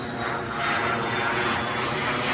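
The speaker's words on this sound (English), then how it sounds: "And more airplanes." Airplanes flying overhead near a campground, a steady, loud broadband engine roar that swells slightly and holds throughout, with no voices.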